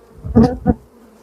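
Two short buzzing bursts of honey bees from a swarm, close by, rising and fading quickly one after the other, then quiet.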